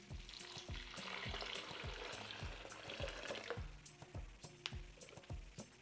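Water poured into a mixer holding almond flour while making homemade almond milk, a steady rushing, splashing pour over about four seconds with a few clinks and taps, close and alone.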